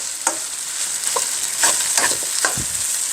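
A utensil stirs and scrapes rice around a hot frying pan, giving several distinct scraping strokes over a constant close sizzle, with no talking.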